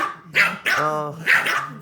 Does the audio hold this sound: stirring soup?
no